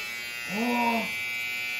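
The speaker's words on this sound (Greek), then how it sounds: "Ξυριστική μηχανή." An electric shaver for shaving hair, played with in a children's hairdresser lesson, gives a thin, steady, faint buzz throughout, with a brief vocal sound rising in the middle.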